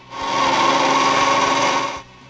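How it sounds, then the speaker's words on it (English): A water pump is driven by an old lawnmower motor coupled to an old angle grinder. It gives a loud, close, steady mechanical whine that starts abruptly, holds for about two seconds and then cuts off. "it's easier to hook this pump to my old lawnmower motor, which I coupled with an old angle grinder that engages the pump."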